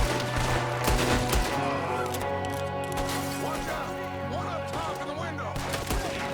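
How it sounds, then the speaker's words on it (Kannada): Gunfire in Red Dead Redemption 2 during a fight to protect Dutch from attacking gang members: scattered shots and bursts crack over steady game music and ambience, with a loud report near the start and others spread through. "ನಾವು ಶೂಟ್ ಮಾಡಲೇಬೇಕಾಗಿದೆ ಅವ್ರ ಮೇಲೆ"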